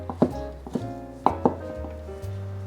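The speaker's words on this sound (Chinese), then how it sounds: "把香菇切碎" A knife chops soaked shiitake mushrooms on a board, with several crisp, irregular knocks close by and no talking.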